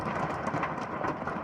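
Hail falls during a rainstorm in a brief, dense burst of continuous patter and rattle.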